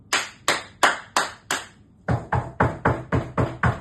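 Hand claps made by a tester checking a newly fitted second cochlear implant: five sharp, evenly spaced claps, then a faster run of seven slightly fuller claps, close by and clear in a quiet room.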